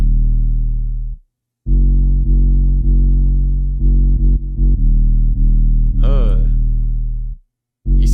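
A jerk-style beat plays with booming 808 bass notes in a bouncy pattern, with short gaps, distorted tones, and a rising swept effect near the end.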